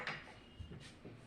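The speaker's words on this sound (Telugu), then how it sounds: "డోర్ ముట్టించాలి." A door in a room of a house is pushed shut: a quick wooden knock, then a second softer thump. Both are close and brief, with no talking.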